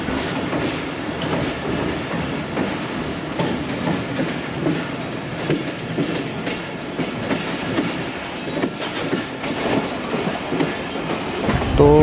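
The 14DN Awam Express rolls along Pakistan Railways track toward Wazirabad Junction, a continuous loud rumble of wheels and carriages with rhythmic clatter, rising slightly at the very end.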